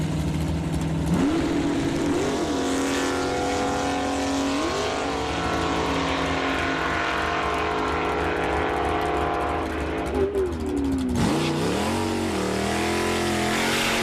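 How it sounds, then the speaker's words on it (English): A 1965 Chevrolet Nova wagon with a 585-cubic-inch big-block Chevy and a 396-powered 1968 Camaro at the drag strip, loud sustained engine roar with rising and falling revs and a sharp throttle change near the end, no talk. "65 Nova wagon, 585 cubic inches of big block Chevrolet, paired up against Steve Lowe, his 396 powered 68 Camaro"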